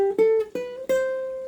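Ukulele playing a riff, a short run of four plucked notes with ringing tones, clear and close, no voice.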